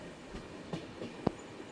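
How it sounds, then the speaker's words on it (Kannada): A passenger train rolls into Yesvantpur Junction in Bangalore, giving a soft, steady low rumble from inside the coach, broken by a few sharp isolated clicks and knocks of the wheels; fairly faint throughout, with no voices. "ನಮ್ಮ ಟ್ರೈನ್ ಈಗ ಯಶವಂತಪುರ ಜಂಕ್ಷನ್ ಒಳಗೆ ಎಂಟ್ರಿ ಆಗ್ತಿದೆ."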